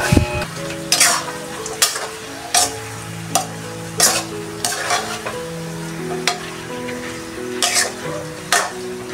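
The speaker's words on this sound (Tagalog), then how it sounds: "Haluin natin." A spoon stirs chicken adobo with soy sauce in a sizzling pan, giving about ten sharp, close scrapes at a fairly regular pace over a steady frying hiss.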